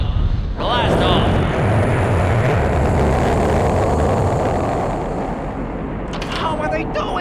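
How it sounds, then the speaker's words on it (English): A cartoon rocket space launch effect from SpongeBob: a loud, sustained roaring rumble that bursts in abruptly and holds steady for several seconds before a sharper crackle near the end. "That was the most realistic space launch I've ever heard."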